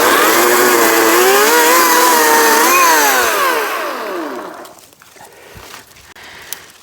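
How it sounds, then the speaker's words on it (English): A chainsaw trimming small branches outdoors roars loud and close, its engine pitch dipping and surging with each cut before it winds down to a quieter idle with a few light clicks. "I'm going to trim off some of the little branches here"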